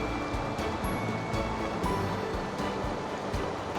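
A waterfall beside a mine tunnel entrance in Alaska roars as a steady, loud, broadband rush of falling water, constant and unbroken with no voices.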